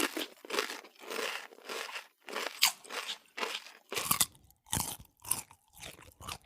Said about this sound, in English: These little guys are black and white striped munching machines, and all they really do is just, well, munch on leaves.